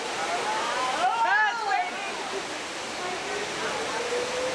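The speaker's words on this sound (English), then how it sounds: "Waterfall on the Swiss Alps." Steady broadband rush of a waterfall in the Swiss Alps fills the whole stretch, continuous and fairly close, with a brief burst of voices partly over it.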